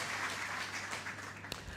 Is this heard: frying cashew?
no